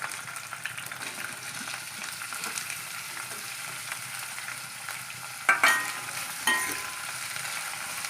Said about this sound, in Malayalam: അപ്പോൾ ഉള്ളിയും പച്ചമുളകും ഇട്ട് നമുക്കൊന്ന് വഴറ്റിയെടുക്കാം